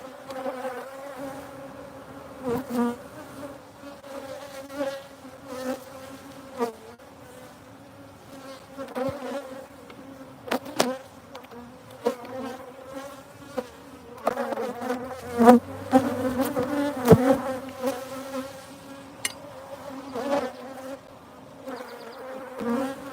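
Honeybees swarm around an open beehive during a honey harvest, a steady dense buzz from many insects holding through the whole stretch, with occasional louder passes as individual bees fly close, plus handling clunks and knocks.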